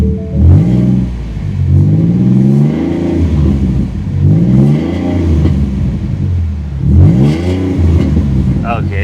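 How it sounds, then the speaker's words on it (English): A Jeep Trackhawk with an aftermarket exhaust revs repeatedly, each deep, raspy rise and fall in engine pitch loud and close, with blips spaced a couple of seconds apart and a low rumble between them. "They put an exhaust on it. Oh my. It actually doesn't sound bad."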